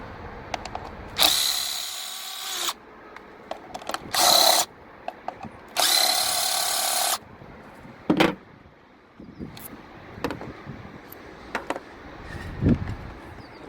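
A power tool removes bolts from a Mazda RX8 engine, with three loud whirring bursts followed by scattered clanks and rattles of parts, close by, with no talk.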